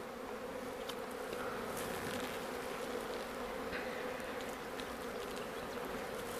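Honeybees buzzing around hives in a spring apiary in a Natura 2000 area, a steady low droning hum of many insects filling the air, with occasional louder passes by single bees, and no talking.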